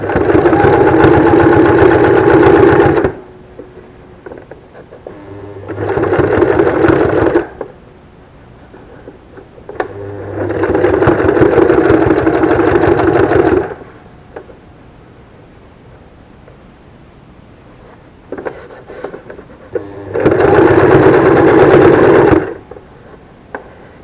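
A sewing machine stitches fabric for a face mask in four loud, whirring bursts of a few seconds each, separated by quiet pauses with faint handling noises.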